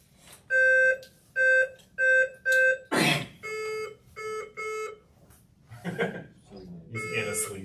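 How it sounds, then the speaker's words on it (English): Quiz bowl buzzers at a high school scholastic bowl state championship being checked: a run of short, loud electronic beeps in quick succession, broken by a brief noise, then more beeps as voices talk over the last part. "Can we do a quick buzzer check just to make sure?"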